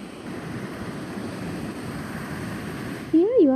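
Early-morning waves wash onto the beach at Ahungalla in a continuous, steady roar of surf. A brief warbling tonal call cuts in near the end.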